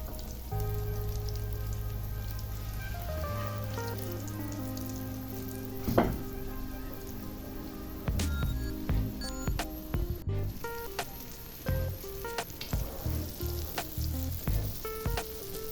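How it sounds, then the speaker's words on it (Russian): Fish fries in hot oil in a pan, a steady sizzle and crackle with scattered pops, close and clear. Low tonal hum and some musical notes run under it, with no talking. "Убедитесь, что масло достаточно нагрелось, и только тогда кладите рыбу на сковороду."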